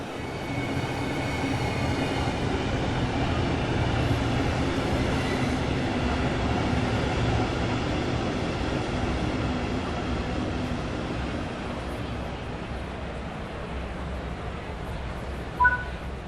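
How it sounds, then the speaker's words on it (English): In Train Sim World 3, a Southeastern High Speed train rumbles into a station steadily, its low engine drone and rolling wheels continuous and near, ending in a brief bright clank. "Your train has arrived."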